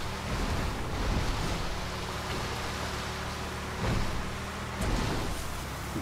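River water in the GTA 5 Online video game rushes in a broad, loud, steady roar with gentle surging swells, like surf or wind-driven flow, and no voices over it.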